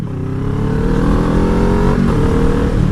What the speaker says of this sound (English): Smoothness of the engine is pretty good.